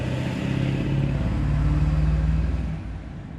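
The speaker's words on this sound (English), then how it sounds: "Wait, this truck is going past." A passing truck rumbles loudly with a low engine drone that swells to a peak and then eases away as it goes by, heard alone with no talk.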